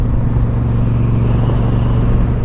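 A 2013 Moto Guzzi California motorcycle being ridden, its engine a loud, steady low rumble with a constant drone and no gaps throughout.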